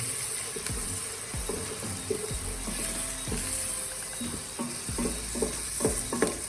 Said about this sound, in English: the trick here is to stir it so it won't burn